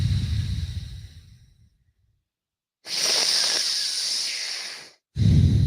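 Deep, fast breaths in a respiratory training drill: a loud inhale, a pause of near silence, then a long, forceful hissing exhale and the start of another strong breath, all close up with no talk.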